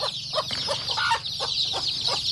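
Hungry chickens and young chicks in a cage, with constant high peeping and cheeping under repeated close clucks in an irregular rhythm.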